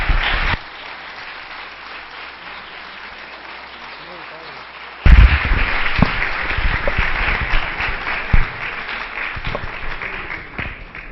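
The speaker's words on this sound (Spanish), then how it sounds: "Un fuerte aplauso, por favor." Audience applause at a Spanish-language panel event, a brief burst at the start, then after a quiet pause a loud, sustained wave of many hands clapping with some crowd voices mixed in.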